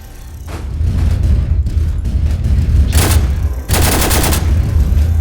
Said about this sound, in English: it gave me a specialized minigun, laser Gatling gun.